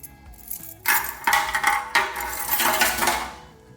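Old metal keys rattle and clink inside a 2005 Suzuki M50 steel fuel tank being shaken to knock off rust, a dense, loud metallic jangle in bursts with no talking.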